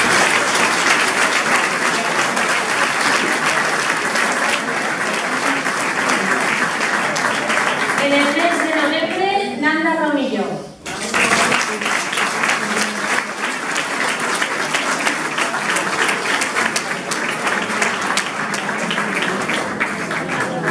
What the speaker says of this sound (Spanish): pero un aplaudimiento también de ella.